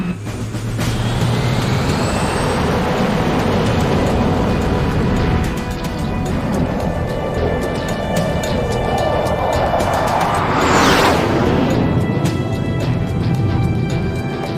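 A military jet on runway 16 roars down the strip for takeoff, a loud, steady broadband rumble throughout that swells with a rising whine near the end.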